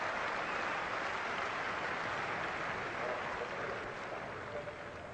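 Test-match cricket crowd in England applauding steadily, a dense, sustained wash of clapping from a large stand that holds at an even level for several seconds without talk.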